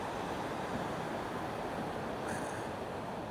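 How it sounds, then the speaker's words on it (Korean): Ocean waves wash onto a pebble beach on the Haparang coastal trail near Hajodae, Korea: a faint, continuous rushing hiss of surf that stays even throughout, with no speech. "파도 소리가 들릴지 모르겠지만 한번 들어보세요."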